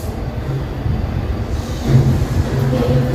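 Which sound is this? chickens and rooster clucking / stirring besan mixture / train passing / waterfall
train passing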